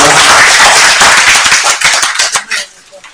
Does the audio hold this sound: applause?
yes